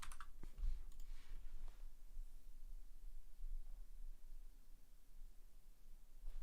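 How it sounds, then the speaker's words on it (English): Typing on a computer keyboard, a quick burst of close clicks at the start, then scattered faint keystrokes over a quiet room hiss. "I'm typing it in."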